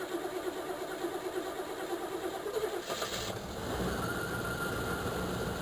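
A cold 1985 Chevrolet Caprice Classic with a 305 V8 and a malfunctioning choke starts up, the cranking giving way to a steady, louder idle that holds close to the microphone.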